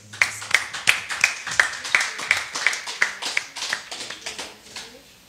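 A church congregation claps in acclamation of the Lord, a run of sharp, fairly regular hand claps that builds and then thins out toward the end, moderately close with no talk over it.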